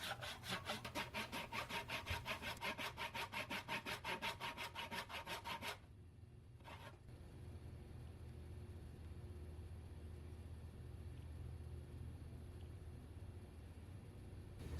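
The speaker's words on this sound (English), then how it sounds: "I draw in layout lines and kerf down to the requisite depth." A hand saw kerfs wood for a boat's breasthook, about six seconds of quick, rhythmic rasping back-and-forth strokes close by, then the sawing stops and a quiet room hum remains.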